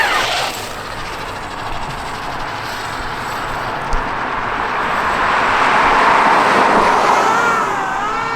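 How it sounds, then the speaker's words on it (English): A car passes along a street, its broad road noise swelling steadily and peaking toward the end as it draws near, with no talk over it. "We got a car coming."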